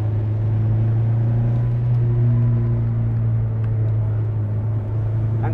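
A 1973 Alpine A110 rally car engine drones steadily through a corner in France, a loud close low rumble heard from inside the cabin with a constant pitch and little power applied.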